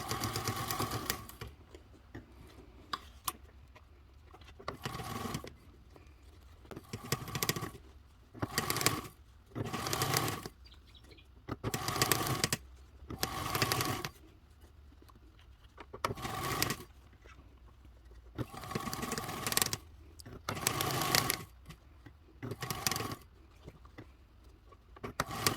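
A sewing machine stitches fold-over elastic onto a detachable backpack strap, running in about a dozen short, even bursts separated by quiet pauses as the work is repositioned.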